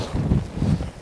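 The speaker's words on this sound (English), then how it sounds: "oh, that's windy." Gusting outdoor wind buffeting the microphone, a low rumbling roar that swells twice in one second, loud and close, with no voices.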